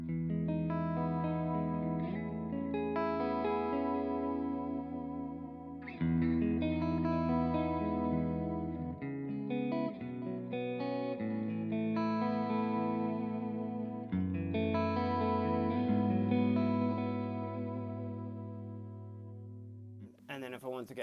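Clean electric guitar played through a Neural DSP Quad Cortex with compressor, delay and reverb, ringing chords and arpeggiated notes in several sustained phrases with brief pauses, echo tails trailing each section, loud and alone.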